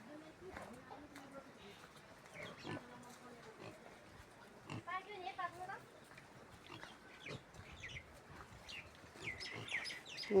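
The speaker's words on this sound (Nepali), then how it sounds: "ओ सुँगुरहरू त कति छ ओहो" Pigs in a hillside village by rice fields, with grunts and squeals scattered close by among chirping birds, while people talk over them.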